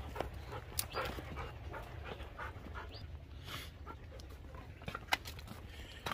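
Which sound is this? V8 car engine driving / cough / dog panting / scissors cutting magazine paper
dog panting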